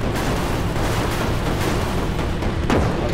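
A loud, powerful LEGO tank cannon blast booms in Brick Rigs, with a dense rumbling explosion filling the moment.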